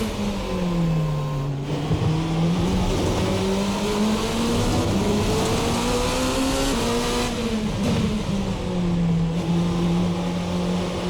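A VRC Revenga R13 race car with a 6-speed gearbox howls through a shakedown run in Assetto Corsa on cold tires, its engine note rising and falling steadily with shifts, loud and close throughout.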